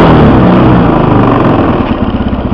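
A 1999 4-stroke dirt bike engine runs loud and close just after a kick start, a rough, steady idle with a throbbing, uneven pulse that grows more choppy toward the end.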